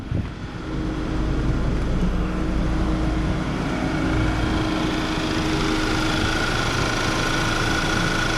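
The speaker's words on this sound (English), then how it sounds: "The engine seems to be running fine" A Volkswagen Tiguan engine idles steadily nearby after a coolant top-up, a low even hum with a faint tonal whine, starting slightly quieter then holding constant.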